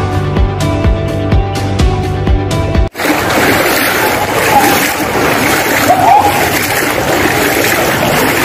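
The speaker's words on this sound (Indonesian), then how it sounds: "Kondisi banjir di Puri Bintaro." Floodwater splashing and churning through a flooded housing complex in Puri Bintaro, Tangerang Selatan, a continuous broadband wash after a brief musical intro, fairly loud and steady with no voices.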